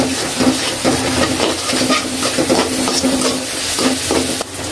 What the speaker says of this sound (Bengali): এখন আমরা মশলাটা কষিয়ে নেব